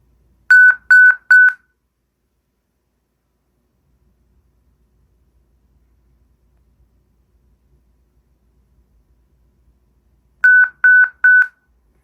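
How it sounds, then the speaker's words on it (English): Alarm of an APH Braille Plus notetaker from 2007: two bursts of three loud, crisp electronic beeps in even rhythm, separated by about nine seconds of silence. "And that's the alarm, so let's press OK."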